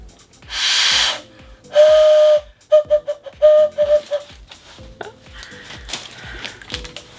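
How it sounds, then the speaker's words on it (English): Antique train whistle blown in a few bursts: a long airy hiss, then a sustained steady tone followed by several short toots, close and loud, with brief low talk around it. "Train whistles."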